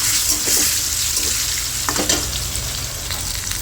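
Potatoes frying in hot oil with fenugreek seeds, a loud, close sizzle with crackling bursts and light stirring for a few seconds, no talking.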